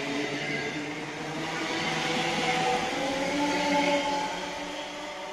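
A four-carriage train at Croy railway station rumbles with a steady, broad roar and a faint tonal whine, holding a constant loudness with no voices over it.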